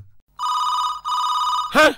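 A telephone bell rings loudly in two long, steady bursts with a short gap between them, and a brief voice cuts in at the very end.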